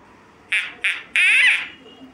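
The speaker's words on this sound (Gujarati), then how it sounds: "આને કહેવાય DUCK," Duck quacking up close: two short quacks followed by a longer, drawn-out nasal quack, loud and alone against a quiet background.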